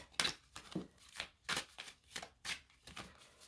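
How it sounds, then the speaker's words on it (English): Oracle cards are riffled in quick bursts, about seven crisp shuffles in a regular rhythm, close and fairly quiet with brief pauses between. "these cards shuffle so nice"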